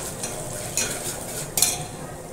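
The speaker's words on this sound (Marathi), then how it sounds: "ते चांगलं आता तेल सुटेपर्यंत भाजून घेऊया." Ready-made misal masala roasts in oil with a steady sizzle, broken by a couple of sharp spoon-scraping stirs against the pan.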